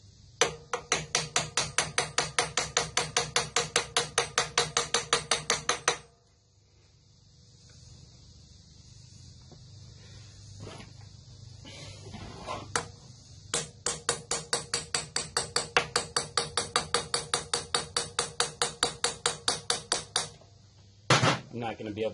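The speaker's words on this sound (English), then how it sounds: "I got a regular hammer because it's got a little weight to it." A regular steel hammer taps rapidly and evenly on the engine parts of a Briggs and Stratton V-twin mower during head gasket work, close and loud. A long run of strikes pauses, then a second run follows, ending in one heavier clank.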